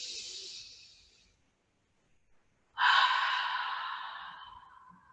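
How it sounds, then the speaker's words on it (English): Two slow, breathy open-mouth exhales, like fogging a mirror, during a restorative yoga session. The first trails off, and after a quiet pause a louder second breath fades gradually. "as you exhale, I want you to imagine that you're fogging up a mirror."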